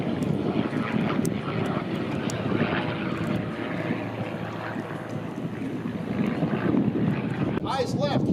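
A Curtiss P-40 warplane making a topside pass at an airshow, a loud sustained engine roar and drone under wind noise, with a voice briefly heard near the end.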